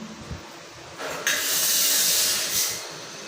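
Cumin seeds hit hot ghee while tempering for an Andhra-style bottle gourd gravy, with a quiet tap or two and then a sudden loud sizzle that holds steady and eases slightly near the end.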